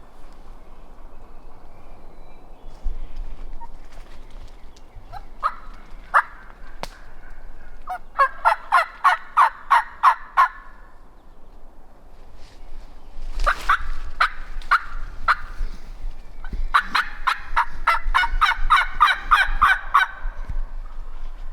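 Wild turkey gobblers gobbling on an opening-day spring hunt, several loud rattling gobbles in bursts, some overlapping, over quiet outdoor background without talk.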